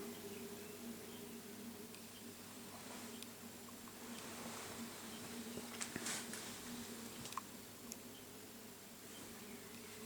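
A steady, low hum of many honeybees buzzing close by at a bee farm, continuous and even, with faint ticks and rustles.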